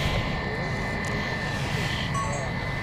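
Steady broadband roar of a Fly One Airbus A321neo at Stansted Airport, continuous and moderately close with a faint tonal whine, no talk.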